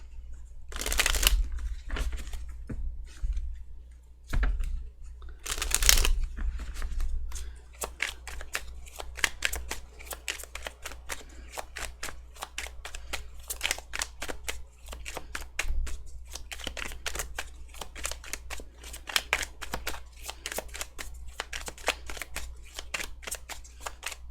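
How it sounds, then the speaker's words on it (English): Cards shuffled repeatedly in crisp, rapid riffles and flicks, close up, with short bursts and pauses throughout and no talking. "So much shuffling"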